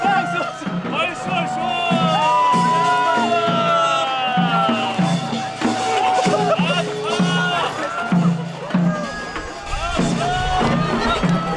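Guests at a traditional Korean wedding ceremony cheer and shout as the groom enters, a lively crowd din with whoops and babble, while an announcer's voice talks loudly over it.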